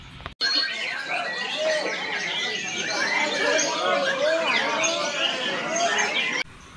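Caged songbirds at a bird-hanging spot chirp and tweet in a dense, continuous chorus, many overlapping calls close by and fairly loud throughout.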